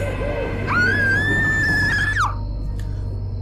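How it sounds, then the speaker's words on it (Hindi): A woman lets out one long, loud scream of fright in a Hindi horror story, a sustained high shriek lasting over a second before breaking off, over a low steady hum. "वो बहुत जोर से चिल्लाई।"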